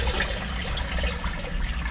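Water rushing steadily through a sewer manhole well after a blockage in its channel was cleared, a continuous close gushing flow with no voices.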